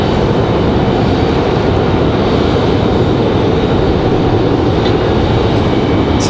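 A Southwest airliner passing by at Raleigh-Durham International Airport, a loud, steady broadband jet engine roar that fills the whole clip, close and constant with no talk.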